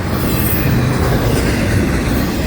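Close up, a big train thunders by in a dense, unbroken rumble, with hints of wheel squeal and rhythmic clacking under the roar.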